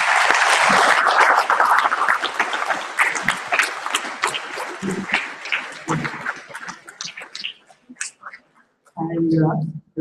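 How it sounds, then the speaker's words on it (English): Conference audience applause for Sishi sir, a loud burst of clapping that thins and breaks up after a few seconds, with a voice talking over the tail end. "a big round of applause to Sishi sir"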